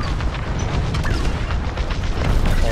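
Missiles explode in a Star Wars Squadrons space battle as a loud, dense, continuous rumble of booms and blasts, with no talking.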